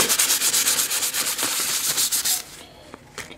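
Brass-inlaid timber sanded by hand with 400 grit sandpaper: quick, rhythmic back-and-forth rasping strokes heard up close, which stop abruptly near the end.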